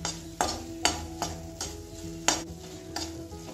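Coconut and jaggery being stirred in a wok, with regular scraping strokes of a spoon against the pan roughly every half second over a soft background sizzle, close and clear with no talking.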